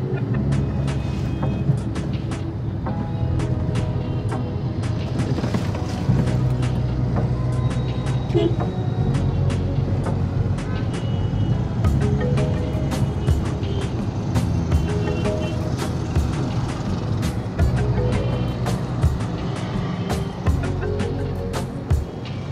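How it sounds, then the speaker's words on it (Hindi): Busy road traffic flows beside flyover construction in Bhubaneswar, a continuous dense rumble of engines with scattered horn beeps and clatter throughout, close and fairly loud. "इधर ही ट्रैफिक लगा रहता है।"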